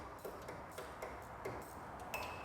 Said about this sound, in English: I'm using a 1/4 inch extension, 1/4 inch drive socket, 10 millimeter, and a 1/4 inch ratchet here